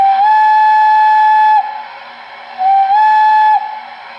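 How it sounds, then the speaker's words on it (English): MTH DCS model train steam whistle sounding two long, loud tonal blasts with a short gap between, each rising in pitch at the start and fading at the end. "Here's the whistle,"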